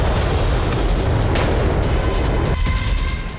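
Heavy wartime blasts from Russian bombs and tank shells in Ukraine rumble loudly and continuously, deep booming detonations layered with crackling debris and a sharper burst midway, with no speech.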